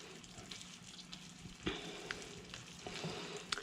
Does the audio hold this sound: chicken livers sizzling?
yes